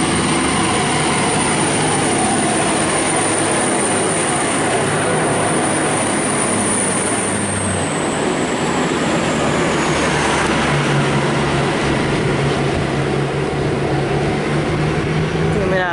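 A Melbourne suburban train pulls out of Clayton station, loud and close throughout, with a rising electric motor whine and steady rumble of wheels on rail as it accelerates away.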